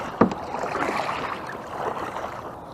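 Paddle strokes on a fishing kayak make soft splashes and trickles, starting with one sharp dip of the paddle and followed by a continuous low wash of water, close by and with nobody talking.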